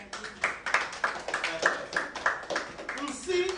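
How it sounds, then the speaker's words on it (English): Children at an Igbo summer camp clap in a quick, uneven series of claps while voices talk over them, the sound fairly faint and close. "Then why are you not clapping?"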